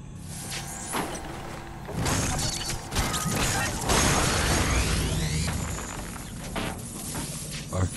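A door-opening mechanism in the video game The Surge grinds and whooshes with metallic clanks, slides and rattling impacts over several seconds, loud and busy, swelling in the middle.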